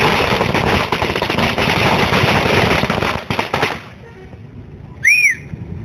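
Firecrackers set off at a street celebration welcoming a High Court stay on the Chamundi Hill works: a dense, loud rattle of rapid bursts for several seconds, then quieter scattered pops and a short whistle.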